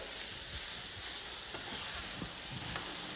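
Onions fry in a pan on a home range with a steady, dense crackling sizzle, occasional soft stirring clicks over the hiss, fairly close and with no voices.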